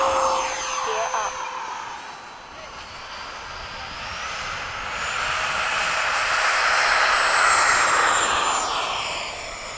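A Freewing 90mm F-22 RC jet climbs out after a long takeoff roll, its steady ducted-fan whine and broad rushing roar swelling and holding loud overhead at dusk, with people talking nearby.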